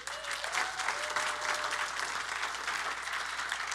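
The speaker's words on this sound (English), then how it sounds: "So another round of applause for them." A room full of summit attendees breaks into sustained, even applause, many hands clapping together steadily for several seconds with a faint voice in the background.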